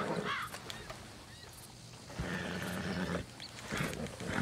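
Horse neighing in the Red Dead Redemption 2 video game, a couple of short whinnies over quiet game ambience with faint background sounds, fairly soft.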